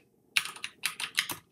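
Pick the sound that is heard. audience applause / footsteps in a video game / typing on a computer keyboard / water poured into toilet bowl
typing on a computer keyboard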